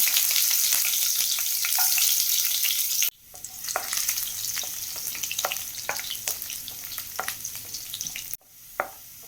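Cumin, dried red chillies and garlic sizzle and crackle in hot oil in a pan, with scattered pops and stirring, a brief cut, then the frying continues steadily.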